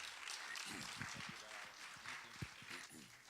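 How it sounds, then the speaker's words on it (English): Youth ministry audience applauding, a steady broadband wash of many hands clapping at moderate distance, with a voice talking over it. "let's give Brian another round of applause"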